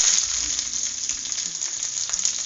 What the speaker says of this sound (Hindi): तेल रख दिया था ऑलरेडी गर्म होने के लिए, अब इसमें मैंने मिर्ची डाल दी है